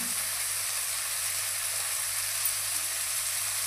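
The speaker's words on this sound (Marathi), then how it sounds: "थोडं अजून टोमॅटो टाकल्यावर भाजून घेऊया" Tomatoes and onions frying in a pan for a matki usal, giving a steady, even sizzling hiss that holds unchanged throughout, with no one talking.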